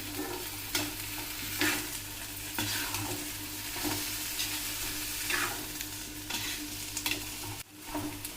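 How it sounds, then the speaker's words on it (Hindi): A spoon scrapes and stirs through a pot of bubbling gahat (horse gram) lentil broth in steady, repeated strokes, with a constant simmering hiss underneath. "अब मैं इसको ज़रा देर चलाऊंगी, उतनी देर तक हमारा ये रस भी उबल जाता है"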